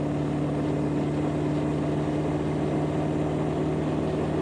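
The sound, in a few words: Ford 7.3 Powerstroke diesel truck engine pulling dozer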